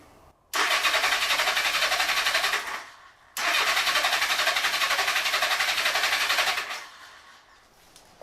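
Cheap used motorcycle engine, fed from an external gas tank, cranking loudly in two long bursts of about two and three seconds each, separated by a short pause, with no sign of catching and running.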